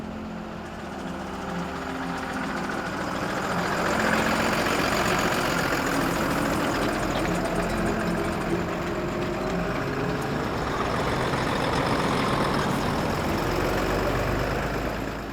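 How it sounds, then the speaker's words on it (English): City traffic rumbles steadily through an urban fox family's home area, a continuous broadband drone of engines and passing vehicles that swells slightly and holds loud throughout. "Traffic that so far only took place outside of the area now plows its way into the Fox family home."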